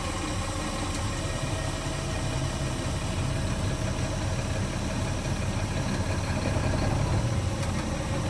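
Tractor truck engine running steadily while stationary in first gear with the clutch down, a constant mid-pitched diesel drone and vibration, close and even throughout.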